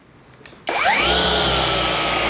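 A car paint polisher used for paint enhancement and ceramic coating work kicks on after a brief quiet moment, spinning up quickly into a loud, steady motor whine that holds without a break.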